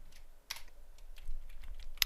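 Quick, light keystrokes on a computer keyboard, close and fairly quiet, ending in a sharper click.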